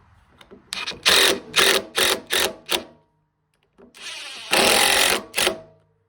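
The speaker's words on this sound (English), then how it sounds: "We'll just screw this faceplate on." A cordless impact driver drives screws to fasten a faceplate onto a lathe for wood bowl turning, heard as several short loud rattling bursts, a pause, then two more bursts, close up with no talking.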